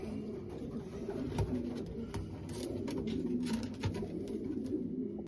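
A pigeon coos in low, soft, repeated rumbling calls, close by, with faint background noise.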